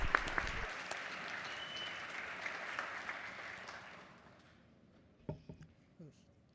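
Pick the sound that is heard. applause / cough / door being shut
applause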